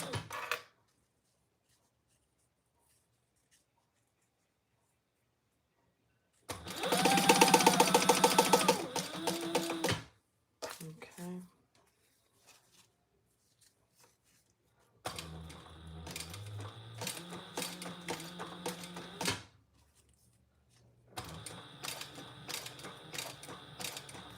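Sewing machine stitching lightweight waterproof canvas while a trifold wallet is sewn, running in several separate bursts of steady mechanical whirring and clatter with quiet pauses between them.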